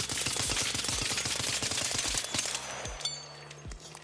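Automatic weapon fire fitted with a muzzle brake in the video game ARC Raiders, a rapid string of sharp shots that slows to a few spaced single shots near the end, heard alone.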